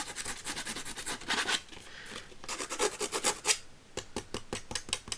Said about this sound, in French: on va prendre un grand ciseau, c'est pas grave. Et on va un peu abîmer les bords comme ça.